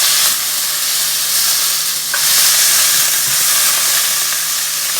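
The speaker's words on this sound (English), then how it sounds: "add your frozen onion or your chopped onion if you prefer to use fresh, and let that cook down a little bit until they're a little bit translucent" Chopped onion fries in a pan over medium-high heat, giving a steady, close sizzle with a bright hiss that runs the whole time, plus a few faint stirring knocks.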